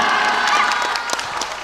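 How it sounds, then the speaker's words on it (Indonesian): A crowd of children and adults at a religious gathering applauds in a dense, steady wash of clapping with scattered cheering, loud and close, lasting the whole short moment. "minta tepuk tangannya"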